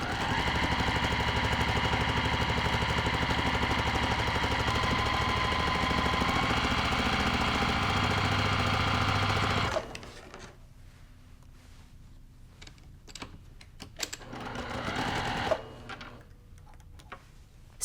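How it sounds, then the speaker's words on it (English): A sewing machine runs steadily for close to ten seconds while sewing the final seam of a four-patch quilt block, a dense rapid stitching whir, then stops, leaving quiet fabric handling and light clicks. "we're going to go ahead and sew this final seam"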